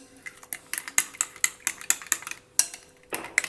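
A spoon clinks and scrapes against a metal pot in quick, irregular taps while orange food colour is stirred into a chicken BBQ rice mixture; close, bright and steady.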